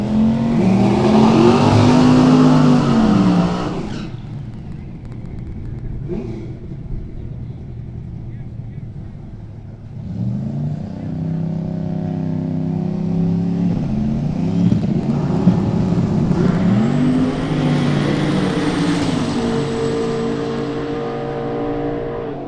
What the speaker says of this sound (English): Pretty good drag race right there.